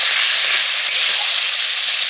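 Masala spices frying in oil in a pan, a steady, close hiss and sizzle that continues evenly throughout without pause.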